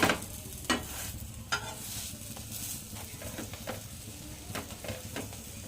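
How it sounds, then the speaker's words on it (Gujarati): A cheese aloo paratha roasts on a pan over low heat, giving a soft continuous sizzle broken by faint scraping and pressing taps as it is pushed down. "બધે આ રીતના દબાવી દબાવીને શેકી લેવાનું"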